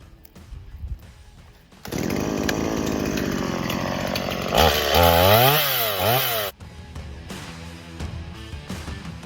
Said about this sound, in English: The chainsaw's already been warmed up for me. We're gonna go ahead and start it like a pro.